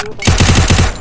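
A rapid burst of gunfire in the video game Free Fire, several shots in quick succession, loud and close.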